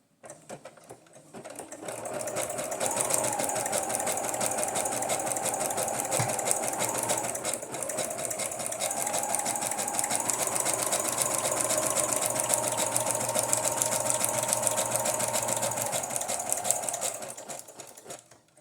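Steady, fast mechanical chatter of a sewing machine stitching through paper continuously for most of the stretch, then stopping; no talking.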